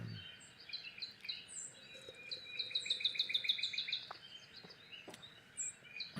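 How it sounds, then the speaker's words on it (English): A bird calls loudly outdoors, a quick run of sharp repeated chirps and tweets rising to a dense burst in the middle, with softer calls and faint insect buzz around it. "It's a loud one. What's up, bird?"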